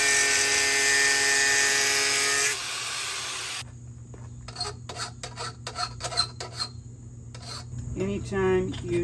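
A steel file rasps against stainless steel sailboat mast hardware for a few seconds of steady, harsh grinding strokes, followed by sparse clicks and light handling knocks of the metal.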